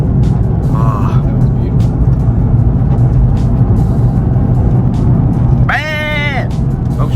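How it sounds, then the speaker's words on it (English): A Nissan 350Z engine rumbles loud and steady from inside the cabin as the driver shifts gears on a scenic road, with a brief rising rev near the end; people talk over it. "Bro, the shifting is so good."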